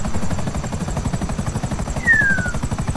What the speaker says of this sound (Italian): Datemi sto benedetto elicottero che io me ne voglio andare da qui